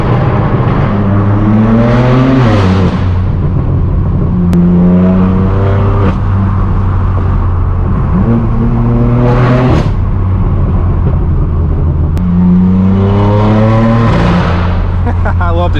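BMW M4 F82 with loud exhaust accelerating hard, engine pitch climbing repeatedly through the gears with clear drops at each upshift, close and loud throughout.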